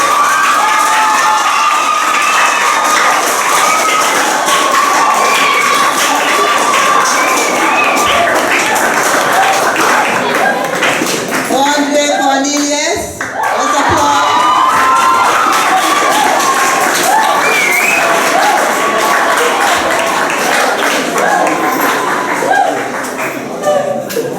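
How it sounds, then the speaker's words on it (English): Crowd at a school sports awards ceremony cheers, shouts and applauds for the school's MVP, a loud continuous roar with children's voices, briefly dipping midway before surging again. "Let's applaud him."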